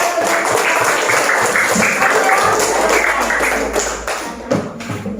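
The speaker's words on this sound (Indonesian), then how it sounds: "Ayo tepuk tangan dulu." A classroom of students claps together after a group presentation, a loud burst of dense applause that tapers off near the end.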